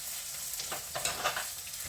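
Soft, steady sizzling of eggplant slices frying without batter in a pan, with faint scraping as pieces are moved around.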